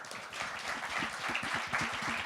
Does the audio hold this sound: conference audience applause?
yes